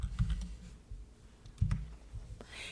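Keys clatter on a computer keyboard as a font name is typed, a few quick close clicks in short bursts separated by brief pauses, quiet overall.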